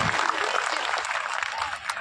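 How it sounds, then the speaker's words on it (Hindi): Brief burst of applause from a crowd welcoming a minister at a Bihar Day gathering in Gujarat, dense clapping for two seconds with some voices mixed in. "एक बार 2 हाथ जोड़ के तालियों से अभिवादन करते हैं मंत्री जी का।"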